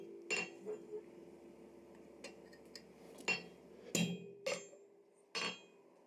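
Hammer striking a steel chisel to cut a hot forged candy cane: about six sharp, ringing metallic blows spaced irregularly, close and distinct, with no talk.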